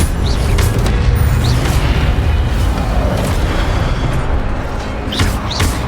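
Incendio fire spell blast in the Hogwarts Legacy video game during a fight, a loud, continuous rumbling roar of fiery bursts and booms with faint higher effects on top and no talking.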